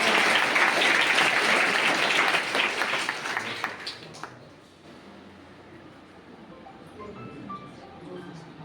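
Students and monastery staff give loud applause to welcome guests at a felicitation ceremony. The clapping is dense and sustained for about four seconds, then thins and dies away, leaving a quieter room with faint murmurs.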